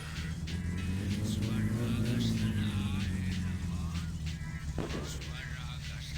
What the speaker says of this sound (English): let's let the car actually warm up this time